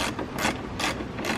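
A ratchet clicks as T30 Torx bolts come out of the headlight top tabs on a BMW F30 during a halogen-to-xenon headlight retrofit, giving four close bursts of rapid pawl ticking with brief gaps.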